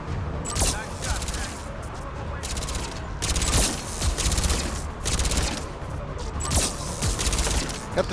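Dense, sustained gunfire from a shuttle during a battle on Palaven in the video game Mass Effect 3, rapid overlapping shots that swell in bursts over a constant roar, with voices in the mix.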